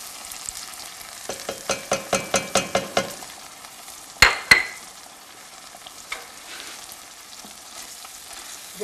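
Vegetables being stirred in tomato sauce and tomato paste in a pan, with a run of about ten rhythmic scraping strokes, then two sharp utensil knocks and a light sizzle continuing underneath.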